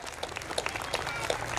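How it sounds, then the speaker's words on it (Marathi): Audience applauding for a teacher, Waje Madam, at a school event: steady dense clapping throughout with scattered louder claps, moderately near. "त्यामुळे वाजे मॅडमसाठी आपण सर्वजण एकदा टाळ्या वाजूया"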